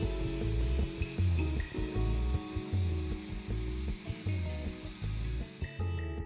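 A Dyson DC34 Animal Pro cordless vacuum with its motorised brush runs with a steady high motor whine, the pitch dipping and rising repeatedly as the head is pushed across carpet or rugs.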